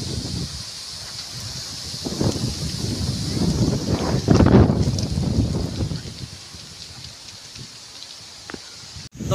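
Strong wind blowing outdoors near a field and freshly dug pond as a Kalbaisakhi storm approaches, roaring in gusts that swell to a loud peak midway and then ease off, with rustling and buffeting against the microphone.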